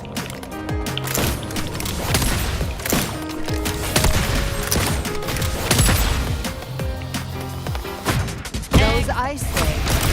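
Rapid gunfire in the video game Wuthering Waves, a dense, continuous barrage of shots and impacts layered with game music and effects, loud and sustained throughout.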